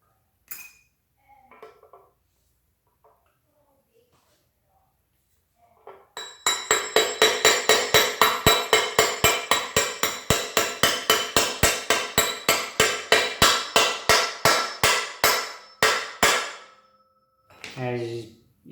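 Metal hammer blows driving a bearing into a part of a 1996 Kawasaki Vulcan 750 under rebuild, a long run of rapid, evenly paced, ringing strikes after a few quieter taps, close and loud.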